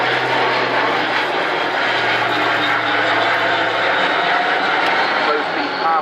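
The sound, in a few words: aircraft flying at airshow, gear down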